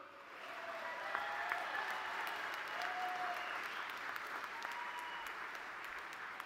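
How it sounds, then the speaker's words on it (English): Graduates at a university undergraduate commencement applauding those around them, a broad sustained wash of clapping from a large crowd in a big space, with faint whistles or cheers rising above it. "Now you applaud all those people around you"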